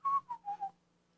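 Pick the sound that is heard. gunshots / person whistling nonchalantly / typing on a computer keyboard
person whistling nonchalantly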